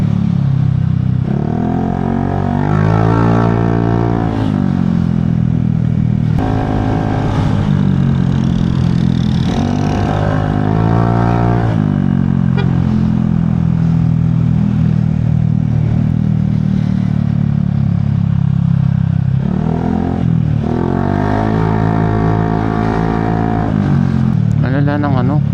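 Busy street traffic with motorcycles and cars, engines droning and revving close by in a continuous loud roll with passing surges, heard from a moving delivery rider's position.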